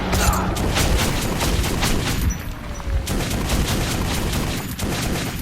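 An auto-cannon in the game Metro Last Light fires shotgun shells in a sustained, loud barrage of rapid overlapping blasts, dense and continuous throughout with booming low end and no clear gaps.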